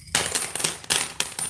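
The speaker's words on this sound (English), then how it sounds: "Let's go ahead and dump the change out here." Loose change coins are dumped onto a white sheet of paper, a rapid cascade of metallic clinks and jingles over about a second and a half, close and crisp with no voices.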